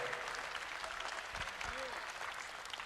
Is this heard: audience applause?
yes